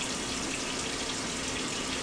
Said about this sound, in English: I'm just washing out their bowls